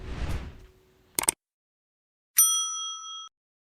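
A short bright metallic ding with a long ringing tail follows a brief clatter, then cuts to silence; a crisp notification-bell effect.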